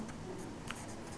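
Pen writing an answer on paper during a worked class 10 maths problem, a faint, brief scratch of the tip moving across the page, soft and close against quiet room noise.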